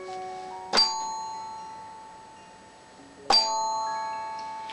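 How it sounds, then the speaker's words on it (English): Orchestra bells struck twice on the same note, each bright metallic strike ringing out and decaying slowly, the second hit arriving about two and a half seconds after the first, alone in a quiet room. "So next to me I have a set of orchestra bells which I'm going to hit the same note as the tuning"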